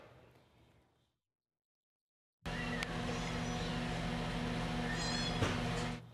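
Kittens at an Arizona Humane Society shelter, meowing over a steady hum after a brief quiet gap; the cries are fairly close and loud, with a sharp click near the end.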